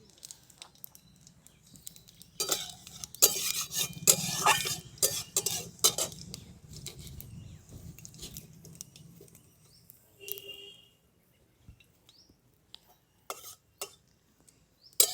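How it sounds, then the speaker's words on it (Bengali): Panch phoron spices sputter in hot oil in a pan while a utensil stirs and scrapes, giving bursts of crackle and metallic clinks that fade to scattered light taps toward the end. "ফোড়নে দিয়ে দিচ্ছি পাঁচ ফোড়ন"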